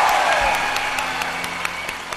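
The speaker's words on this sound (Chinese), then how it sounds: "你听到下面的掌声就知道了" Audience applause at a televised talent show, a steady wash of many hands clapping from the seated crowd, fairly loud and continuous with a few sharper claps poking through.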